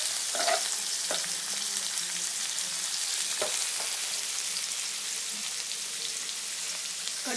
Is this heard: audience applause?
no